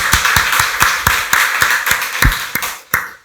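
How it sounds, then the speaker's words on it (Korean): A church congregation at a Sunday worship service claps together in a steady rhythm, about a dozen sharp, loud claps in quick succession with no talk over them. "박수로 하나님께 영광 돌리겠습니다."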